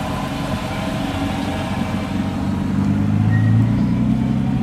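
A loud, heavily modified Nissan R32 at a classic car show, its engine running as a steady low rumble that swells louder toward the end, close by with no talk over it.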